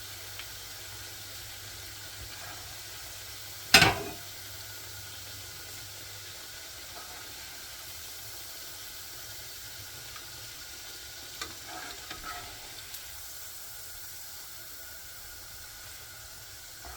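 Shami kebabs fry in a pan with a steady, soft sizzle and hiss throughout, broken by one sharp clatter early on and a few faint utensil knocks later.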